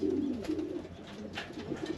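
Racing pigeons coo in a loft, several soft throaty calls overlapping close by over a couple of seconds with no talking.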